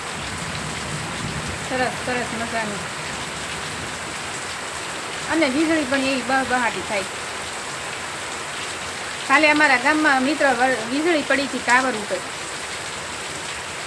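Steady rain pours over a waterlogged village farm field, a continuous even hiss throughout, while someone talks in short bursts above it.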